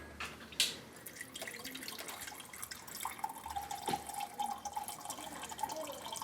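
Cold drinking water is poured for a guest indoors, a steady trickle filling a cup across several seconds with a sharp clink near the start and soft room noise, no speech.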